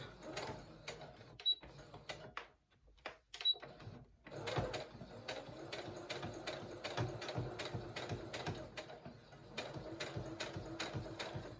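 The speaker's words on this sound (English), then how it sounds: "so when I sew over them they don't get all bunched up" A sewing machine stitches down the folded pleats of a fabric face mask in quick rhythmic bursts of rapid mechanical ticking, with short pauses between runs, close and fairly quiet.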